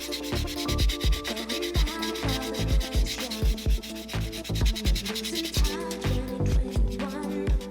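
Sanding pad rubbed back and forth over a plastic model car body to remove mold lines and sharp edges, close rhythmic scraping strokes repeating steadily, alone without talk.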